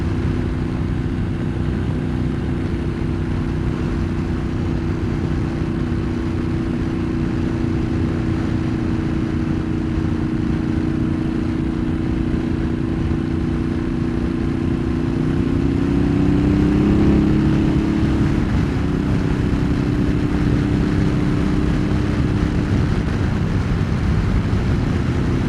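A motorcycle fitted with a dB killer exhaust insert cruises steadily on the highway, its loud, continuous engine drone blending with wind noise for the whole stretch and rising slightly near the end.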